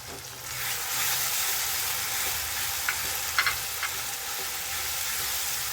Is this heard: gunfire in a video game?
no